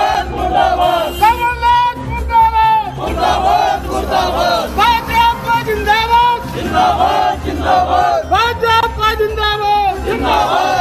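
A crowd of BJP workers at a bus stand chants anti-Congress slogans in loud, rhythmic bursts of massed voices, repeating call after call with brief pauses between.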